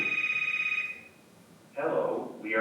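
A telephone rings in two bursts, a steady trilling bell tone that stops briefly and then resumes, loud and close indoors.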